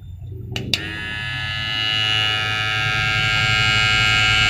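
A second electric hair clipper switches on with a click and runs steadily at close range, giving a rough, buzzing drone with a harsh edge that lasts to the end.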